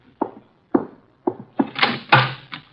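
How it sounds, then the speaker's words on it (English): A door is handled as guests arrive in an old-time radio drama: a series of wooden knocks and thunks, then the louder clatter of the door opening, with no talking. "Archie, the door, our guests are arriving"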